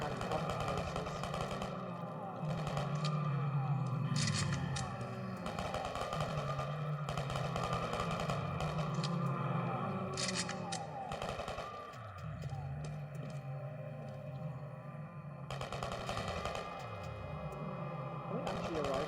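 Scar assault rifle fire against zombies in the MDI Shooter video game, heard as sustained, loud gunfire and engine-like game noise running through the whole stretch, with a voice talking over it.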